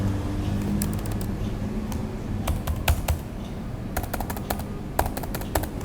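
The letter A is typed repeatedly on a computer keyboard, a quick cluster of close, crisp key clicks in short bursts over a faint steady background hum.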